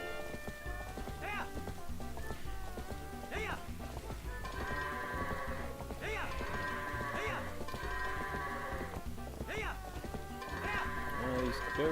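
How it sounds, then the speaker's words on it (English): Goats bleat in The Legend of Zelda: Twilight Princess, several wavering cries recurring every couple of seconds over continuous game music and ambience, fairly clear and mid-distance. "These goats are looking good."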